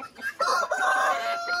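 Caipira free-range chickens clucking on a Brazilian farm, a short run of fairly faint, close squawks and warbling hen calls with a soft rural background.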